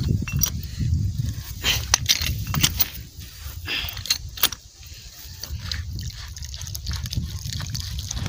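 Water trickling and dribbling from a repaired water pipe line outdoors, a steady wet trickle with scattered clinks and taps, close and fairly loud throughout.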